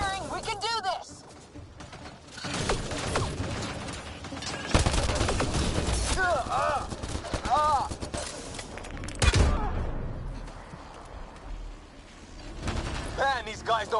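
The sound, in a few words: gunfire in video game Mass Effect Andromeda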